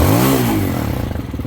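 A Honda Hawk 250 motorcycle engine gets a short rev, rising quickly in pitch and then dropping back to a lumpy, close idle.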